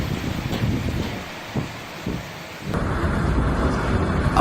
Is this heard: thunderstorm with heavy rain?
yes